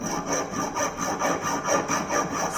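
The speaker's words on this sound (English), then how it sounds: "So for to remove that burrs and to make these edges clear a little bit blunt, here we are making the filing." Hand filing burrs off metal edges in a fitting workshop: rapid, evenly spaced rasping strokes, about two per second, close and moderately loud with no voices.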